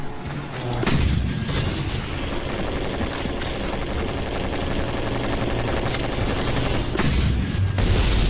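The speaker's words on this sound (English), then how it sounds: "This gun I'm holding is basically like a cross between a rocket launcher and a shotgun" In Battlefield 2142, the Pilum, a shotgun-like rocket launcher, fires in a series of heavy booming blasts over dense, continuous battle din, with several loud thumping reports and a roaring background of explosions and gunfire.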